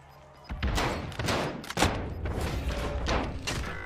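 Rapid, punchy gunshots from a gun in Call of Duty fire in a dense, continuous volley, loud and close, with thudding low-end impacts and little pause between shots.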